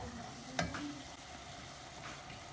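Five or six small finely chopped onions sauté in a pan for stuffed mulberry leaves, a faint soft sizzle with a single sharp clink of a utensil early on, quiet and without talk.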